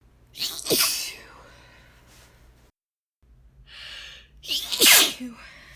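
Two loud, unstifled sneezes from a woman, each with a sharp breathy burst, the second preceded by an audible intake of breath, close up with a short silence between them.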